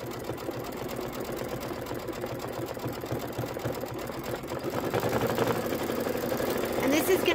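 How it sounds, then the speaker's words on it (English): An embroidery sewing machine stitching a Halloween haunted-house pillow design, running with a steady, rapid mechanical hum and needle chatter that grows slightly louder toward the end. "3 minutes of stitching."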